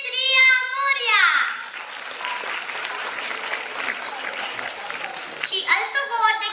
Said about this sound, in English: Please have thunders of claps for Miss Riya Moria